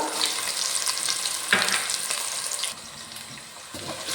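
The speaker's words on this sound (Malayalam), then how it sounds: "ഇനി ഇഞ്ചിയും വെളുത്തുള്ളിയും ഒരുവിധം ഒന്ന് മൂത്ത് വരുന്നിടം വരെ ഒന്ന് വഴറ്റിയെടുക്കാം." Ginger and garlic sizzle loudly in hot oil, a dense steady hiss with a brief clatter of stirring partway through.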